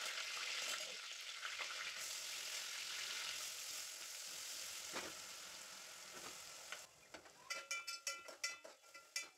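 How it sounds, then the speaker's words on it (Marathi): Mustard seeds, ginger, garlic and coconut paste frying in hot oil, a steady close sizzle with crackles, followed near the end by a run of sharp stirring clinks and scrapes against the pan. "तेलमध्ये आता राई, आलं, लसूण, खोबऱ्याचं वाटण टाकते आणि चांगलं भाजून घेते त्याला"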